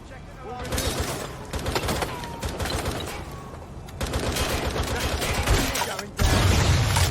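A gunfight in Watch Dogs: Legion, with rapid bursts of sharp shots and volleys crackling close and loud, a short lull, then another heavy barrage, with shouting voices mixed in.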